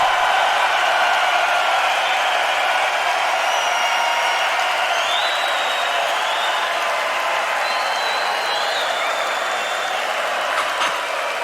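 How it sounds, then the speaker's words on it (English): A large crowd claps and cheers at a concert in Gothenburg, forming a loud, dense and continuous wash of applause with scattered whistles and shouts that runs through the whole stretch. "Clapping."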